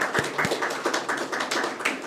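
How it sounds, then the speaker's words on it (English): A round of applause at the launch of the Africa CDC Eastern regional centre, fairly quiet, with a few distinct claps at the start and then a soft, uneven patter of hands that stays light throughout. "let's applaud her with another round of applause"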